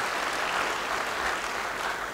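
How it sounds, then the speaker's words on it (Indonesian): A church congregation claps together, a faint, even patter of many hands sustained throughout without a break. "Yang percaya beri tepuk tangan bagi dia"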